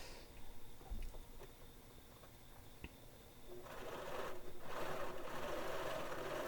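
A sewing machine back stitches the seams of a fabric cover for a heat press: soft handling noises at first, then a rapid, steady motor whir with needle chatter, close and continuous through the final seconds.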